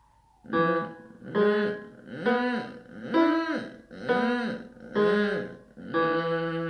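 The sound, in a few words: vocal fry voice warm-up exercise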